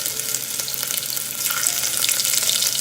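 Sesame seeds with green chili paste and ginger paste sizzle and fry steadily in a pan over a low flame for undhiyu, a continuous close crackling hiss with no talking.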